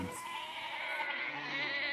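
Goats and lambs in a nomad herd in Iran bleat continuously and loudly up close, several overlapping calls with no voices.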